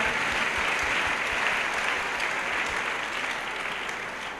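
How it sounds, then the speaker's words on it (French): A congregation at an evangelism and deliverance crusade in Douala applauding, steady dense clapping from a large crowd that carries on throughout, fading slightly at the end. "clap to Jesus Christ"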